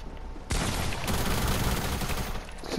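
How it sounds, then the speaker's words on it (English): A sustained burst of rapid video game gunfire starts abruptly and crackles loudly for about two seconds, then cuts off. No one speaks over it. "I'm shooting you!"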